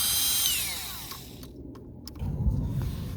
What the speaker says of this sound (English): Now we can remove these big screws that hold the whole thing in place.